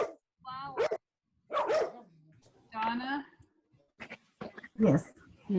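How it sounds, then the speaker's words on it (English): Dogs barking in the house at someone at the door, several sharp barks mixed among close conversational voices, loud bursts separated by brief pauses. "Who has the dogs? Somebody's at the door."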